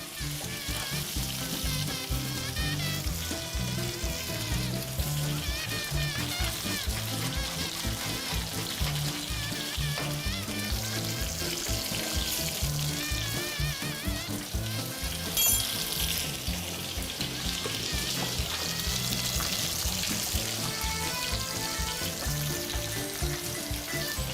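Lamb chops fry in a professional-grade pan in a home kitchen, giving a loud, steady, dense sizzle that crackles without pause, with occasional clinks and stirring sounds and no talking.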